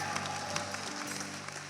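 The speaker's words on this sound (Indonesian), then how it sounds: "Tepuk tangan orang sudah diurapi Tuhan lebih kencang lagi saudara." A church congregation claps together in steady, dense applause that fills the short stretch at a fairly even level, with a faint low tone sustained beneath it.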